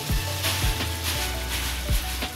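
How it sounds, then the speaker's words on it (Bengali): Egg curry with poppy seeds and tomato frying in a pan, a loud continuous sizzle broken by several scraping strokes of a spatula, close and with no voices. "তাই আগে পোস্ত দিয়ে কষিয়ে নেব"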